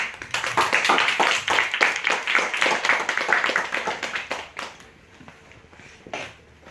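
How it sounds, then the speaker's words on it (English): Small audience at a book launch clapping by hand for an author, dense rapid claps for about four seconds, then thinning to scattered claps and fading. "we can give her a round of applause to begin"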